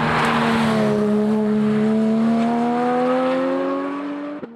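A Porsche 992 GT3 fitted with the quiet version of a Dundon exhaust passes close by with a loud, steady engine note, its pitch rising slightly. It fades a little at the end, and no one speaks over it.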